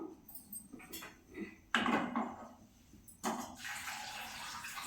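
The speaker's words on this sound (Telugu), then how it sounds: "వాటర్ పోసేస్తున్నాను" About half a litre of water is poured into a pot of raw tamarinds for a tamarind pickle, with two distinct splashing pours, a short one and then a longer steady stream, close by in a quiet kitchen.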